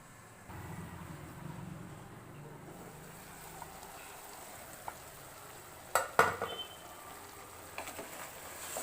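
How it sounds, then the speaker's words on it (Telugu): Mutton curry with gongura sorrel leaves cooks on high flame in a pot, a faint low bubbling sizzle broken near the end by a few sharp clanks of a spoon against the vessel. "ఐదు నిమిషాలు హై ఫ్లేమ్లో మగ్గించుకోవాలండి"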